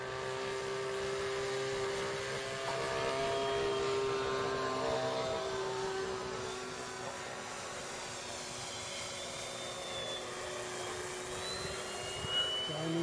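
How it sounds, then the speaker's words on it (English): A Piper J-3 Cub RC model airplane makes a low pass over a model flying club field, its small engine giving a steady, moderately loud buzzing whine that swells and then recedes slightly. "I'll bring it round low pass again."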